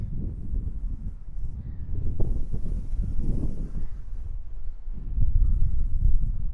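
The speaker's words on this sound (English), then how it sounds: "you can see see how windy it is" Low, rumbling buffeting of wind hitting a DJI Osmo Pocket microphone outdoors, continuous with gusts strengthening toward the end.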